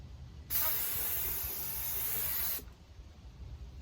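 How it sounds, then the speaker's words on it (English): A sprayer draws a wood ash and water mixture up through a straw siphon and sprays it in one continuous hissing burst of about two seconds, close by, over a low background murmur. "It actually will siphon the wood ash water mixture up and spray it."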